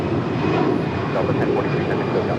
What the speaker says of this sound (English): This is Delta Airlines 1043 taking off to San Antonio, Texas on the A319